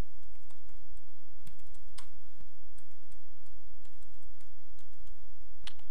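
Computer keyboard typing during a web page building tutorial: soft, irregular key clicks at close range, fairly quiet over a low steady room hum, with no voice.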